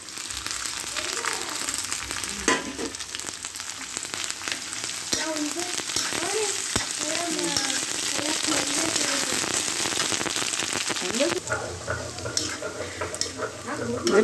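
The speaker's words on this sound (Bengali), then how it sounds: "পেঁয়াজ রসুন ভাজা হয়ে গেছে," Onion, garlic and ginger paste fry in a pan with a continuous crackling sizzle and occasional stirring scrapes, while a voice talks over the middle stretch.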